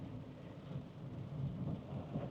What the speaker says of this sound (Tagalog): So ganito po ang itsura ng Claremont kapag may mga ulan na ganito and may bagyo.